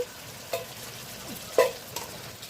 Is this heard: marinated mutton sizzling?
yes